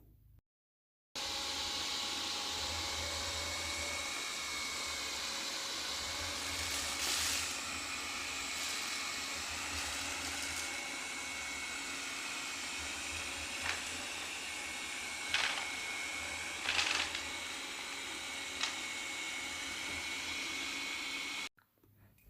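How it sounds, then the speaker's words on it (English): A steady whirring vacuum motor runs continuously from a Viomi V2 Pro robotic mop, with occasional brief scraping and clicking as it moves across the floor. "I don't know how well the wide mopping pattern does with the vacuum motor on."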